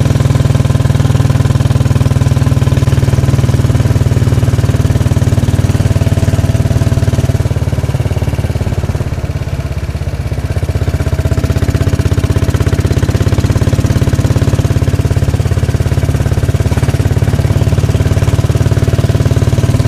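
A motorcycle engine runs steadily on a morning ride to a bike club, a loud continuous low drone with wind rush that dips briefly midway, no talking.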